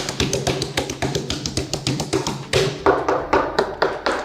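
Repeated light finger taps on a Galaxy Buds Pro earbud worn in the ear, a steady string of close, crisp clicks roughly every quarter second with no talk.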